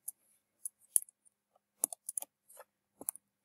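A faulty computer keyboard key clicks in sparse, irregular taps, crisp and close, scattered singly and in quick pairs against near silence.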